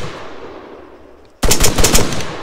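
Rapid automatic carbine fire in the video game ArmA 3 erupts after a quiet stretch, a loud close burst of evenly spaced shots with sharp cracks, no voices.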